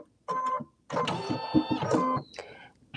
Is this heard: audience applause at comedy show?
no